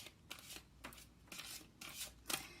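Tarot cards being shuffled by hand, a series of quiet riffling bursts at an uneven rhythm, about five or six brushes close by and faint, without talk.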